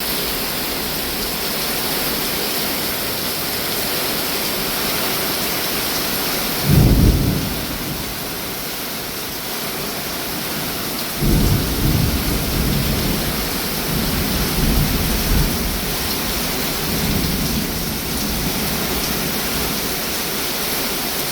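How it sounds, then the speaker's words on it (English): Steady heavy rain from a thunderstorm hisses throughout, heard from inside a laundry room, broken by two deep rumbles of thunder, one near the middle and a longer one after it. "It is pouring rain. The skies opened up. It is a huge thunder and lightning storm,"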